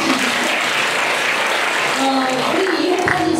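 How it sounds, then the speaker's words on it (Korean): Loud applause from a church congregation, steady and dense throughout, with voices mixed into the clapping. "박수 좀 크게"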